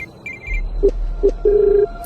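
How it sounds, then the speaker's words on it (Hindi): A telephone rings inside an earthen room as a horror story sound effect, giving two short trilling bursts and then a longer ring, loud and close against a low hum. "फोन उसी मिट्टी के कमरे के अंदर बज रहा है"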